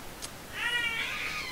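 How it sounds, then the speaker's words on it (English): A child screams in the background before nap time, a short, faint, high wavering cry rising after a tiny squeak, distant and thin against low room noise. "You might also hear my daughter in the background screaming a little bit before her nap time"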